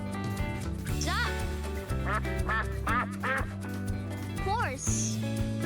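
A cartoon-style duck quacks in several short nasal bursts, set over a steady, bouncy backing tune in a children's animal-sounds song.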